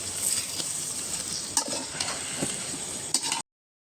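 Chicken cooking on a village chulha with coriander, chili and turmeric powder: a steady close sizzle, broken by a few sharp stirring scrapes and clinks against the pan.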